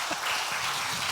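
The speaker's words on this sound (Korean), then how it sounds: "그럼 박수 한 번만 해주세요." A congregation at a Wednesday church service applauding, a dense, continuous wash of many hands clapping at a moderate distance, brief and steady.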